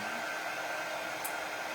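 A hair dryer dries paint on a craft cutout, blowing a steady, even whir for a short stretch with no talk.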